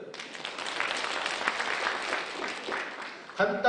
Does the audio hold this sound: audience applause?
yes